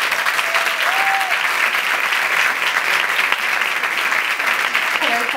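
Steady applause from an audience at YouTube Space Madrid fills the whole stretch, dense and sustained clapping without a break.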